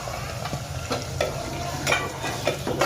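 Onion frying in oil in a clay pot for chicken, close sizzling with repeated scraping stirs at an uneven rhythm, no talking.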